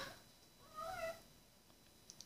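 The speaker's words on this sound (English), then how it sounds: "if you heard that, that was a kitty cat named Sam" A cat named Sam lets out a single soft meow, faint and slightly distant, rising briefly from a quiet background with no talking.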